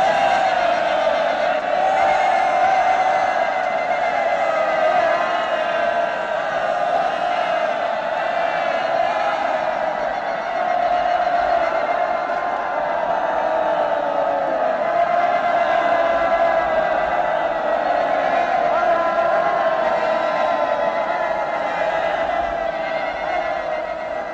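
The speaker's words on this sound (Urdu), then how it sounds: "بجاؤ تالیاں، جشن مناؤ، خوشیاں مناؤ۔" A crowd in a historical drama cheers and celebrates, a steady, dense wall of shouting and whooping voices that stays loud and unbroken throughout.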